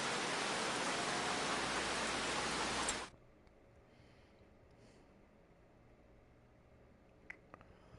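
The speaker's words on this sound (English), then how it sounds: "The rain." Steady rain in Farming Simulator 25, a loud, dense hiss of downpour for about three seconds that cuts off abruptly into near silence, with a few faint clicks afterward.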